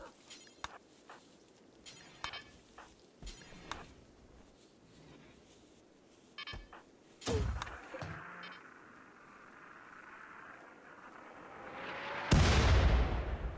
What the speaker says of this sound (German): Ich denke, ich sollte sie mit Mörsern abschießen.